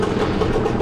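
A boat's steady mid-pitched engine drones and idles close by without a break, a brief rumbling engine sound with no talk over it.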